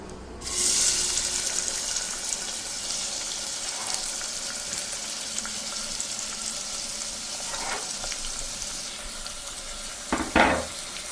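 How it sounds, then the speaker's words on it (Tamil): Chopped onions frying in a pan in a South Indian home kitchen, a steady, close sizzle with occasional stirring and brief clatter near the end, no voices. "இப்போ வந்து நம்ம வெட்டி வச்சிருக்க வெங்காயத்தை போட்டுக்கலாம்."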